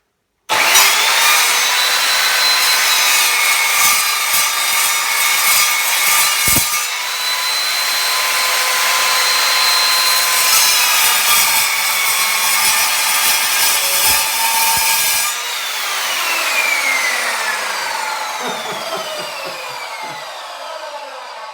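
An Evolution Rage3-s sliding compound mitre saw cuts through material with a loud, continuous, close-up grinding whine, holding steady, then easing briefly before the blade's tone tails off.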